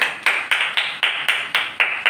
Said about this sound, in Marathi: टाळ्या वाजवा मुलींना.